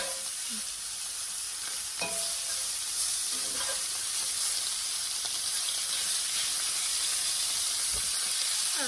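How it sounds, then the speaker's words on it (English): Smoked sausage (kielbasa) browns in a skillet with a steady, even sizzle and hiss, punctuated by a few soft clicks and scrapes from stirring, close and without speech. "my smoked sausage. And I'm going to let that cook for about 2 to 3 minutes until it's browned"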